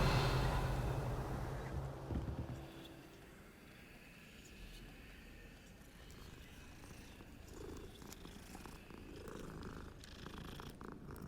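A cat in the Hogwarts Legacy video game purrs softly and continuously, faint and low under a breathy, windy ambient background.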